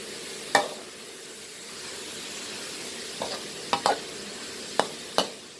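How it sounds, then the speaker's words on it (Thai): Khajon flowers stir-fried in oil in a pan, with a soft continuous sizzle and a few sharp scrapes of a spatula against the pan, quiet and close. "ผัดไปสัก แป๊บหนึ่งให้ดอกขจรอ่อได้น้ำมันก่อนนะคะ"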